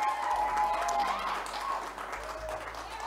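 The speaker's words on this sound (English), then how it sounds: "We'll give him that round of applause." Applause from a gala audience at a charity auction greets a top bidder. The clapping is a steady, moderately loud wash with some tonal background sound mixed in.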